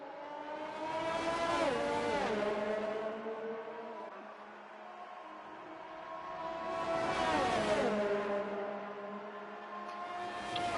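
Race cars in an F2 racing video game sweep past on track, a McLaren and a Red Bull, engine whine rising and falling in two surges with harmonic sweeps as they accelerate, no voices.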